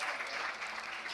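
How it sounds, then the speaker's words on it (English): A short burst of audience applause at an academic symposium on edible biodiversity, even continuous clapping at moderate level throughout. "A round of applause, please."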